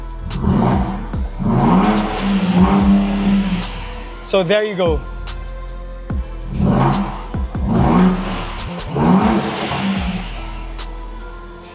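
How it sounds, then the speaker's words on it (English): A Ford Ranger Raptor pickup's six-cylinder engine revs in rising and falling surges through a Milltek Sport exhaust in Sport Plus mode, its exhaust note strong and close, while someone talks over and between the revs. "when I put it to Sports Plus, you automatically hear the difference in exhaust note."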